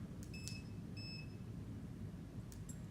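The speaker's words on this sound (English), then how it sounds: "You'll know that your collar is on a mode 2 because it will beep 2 times when you turn it on." A few short, high electronic beeps from a dog training collar being switched on sound faintly, spaced apart, over a low background hum.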